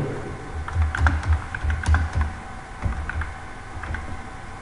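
Steady typing on a computer keyboard while writing a Python for loop, with quick irregular clusters of close key clicks and short pauses between bursts, no voices.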